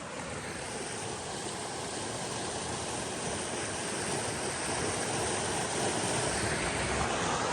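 Strong, steady rushing of high water at Irons Fork Creek on the Ouachita Trail, a dense broadband roar close by that swells slightly louder toward the end, with no voices over it.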